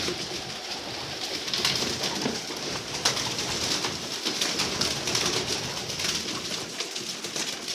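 Male and female pigeons in a loft keep up a steady stretch of cooing over dense background noise, with no talking.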